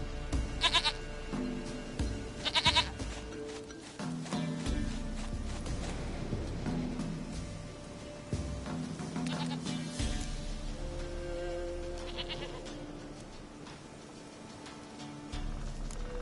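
A goat in a video game bleats several times in short bursts against soft ambient game music, fairly close and clear.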